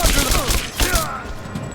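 Gunfire in the video game Rise of the Tomb Raider: a loud, close burst of several rapid shots crackles over about a second, then trails off into quieter ambience.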